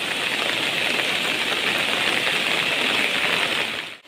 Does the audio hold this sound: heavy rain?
yes